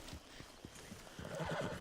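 Horse hooves clip-clop in a quick uneven rhythm, fairly faint, with a short whinny near the end, in the video game Red Dead Redemption 2.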